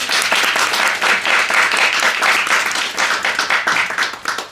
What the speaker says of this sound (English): Could we get a round of applause for that?